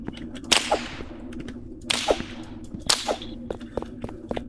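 Whip cracks in a Roblox game, three sharp lashes spaced about a second and a half apart, each a bright snap with a short swishing tail over a steady game hum.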